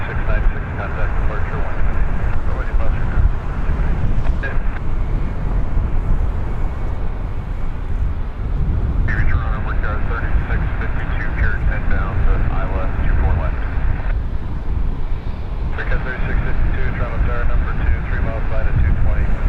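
A departing airliner passing over Toronto Pearson airport, a loud continuous low roar and rumble that fills the whole stretch, with a person talking over it.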